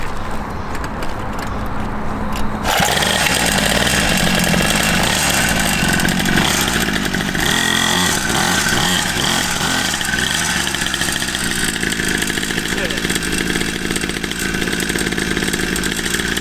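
Cheap Temu 2-stroke pit bike revving hard on a warm lap, a loud, raspy buzzing engine that kicks in after a quiet start and rises and falls with throttle, close and sustained, no talking.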